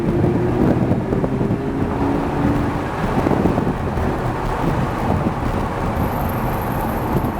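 A car accelerates hard on a race track during a passenger ride-along, its engine roaring steadily and loudly from inside the cabin under heavy wind rumble, with no clear break through the whole stretch.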